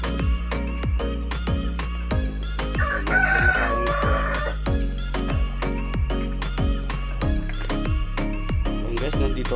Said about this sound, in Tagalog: Nandito ako sa kulungan ng mga manok.